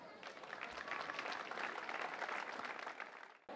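Audience applause at the opening ceremony of a summer university knowledge fair, a steady wash of clapping from a crowd lasting a few seconds before cutting off abruptly, with faint voices mixed in.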